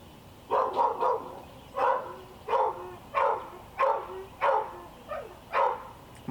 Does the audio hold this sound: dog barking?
yes